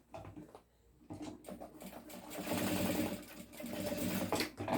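A sewing machine stitches fabric for a toiletry case, its fast, steady mechanical whir starting after a brief pause and running loud and close with a few handling clicks.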